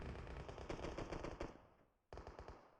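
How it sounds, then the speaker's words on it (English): An SKS rifle fires in a competitive esports video game match, a rapid string of sharp shots that fades briefly, then another crack and more fire, with no voices. "YaLLa gonna get hit into the head with the SKS."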